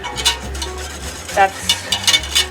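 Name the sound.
whisking milk with dissolving ingredient for cheese making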